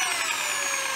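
A Bosch jigsaw runs steadily at high speed, a loud, continuous high-pitched whine and buzz held at one constant pitch with no talking.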